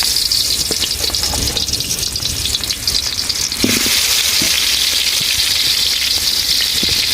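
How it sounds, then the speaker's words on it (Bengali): Chicken pieces and new potatoes hit hot oil in a wok on a village stove, giving a loud, steady sizzle that swells into a stronger, fuller frying roar midway, with occasional clinks of stirring. "এই ফাঁকে চুলার তেল গরম হয়ে গেছে, এখন মাংস আলু একসাথে কড়াইয়ের মধ্যে দিয়ে দিতেছি।"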